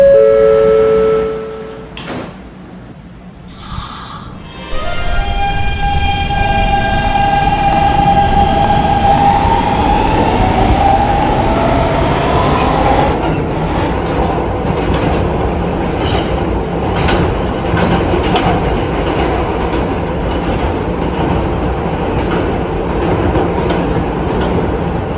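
A Roblox subway simulation's D train on the 5th Avenue Lines pulls away with a rising motor whine and steady rolling rumble, a chime and door sounds before it departs, continuous and loud with no talking.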